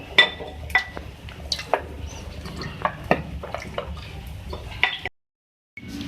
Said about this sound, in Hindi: ये इसको मिक्स करेंगे, इसको थोड़ा सा कुक करेंगे 2 से 3 मिनट।